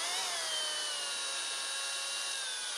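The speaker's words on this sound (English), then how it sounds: "So I'm going to drill a hole." A hole is drilled into a cast reproduction fish mold, a steady high-pitched whine of a small rotary tool that holds even and loud throughout, with a slight falling pitch at the start.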